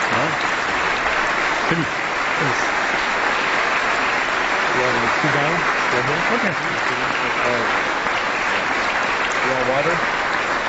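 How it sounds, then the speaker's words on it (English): An audience at the California State Legislature gives the Dalai Lama a loud, sustained round of applause that lasts the whole clip, while people speak briefly nearby under the clapping. "Please join me in another round of applause"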